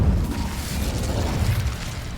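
Incendio fire spell cast in Hogwarts Legacy, a loud low whooshing burst of flame that roars steadily for about two seconds, close and alone.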